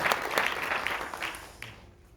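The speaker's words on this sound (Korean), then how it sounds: "수고하신 이승희 변호사께도 여러분 감사의 박수를 보내주시기 바랍니다" Audience applauding a lawyer at a Korean YouTubers' association meeting, a brief burst of many hands clapping that fades quickly into quiet.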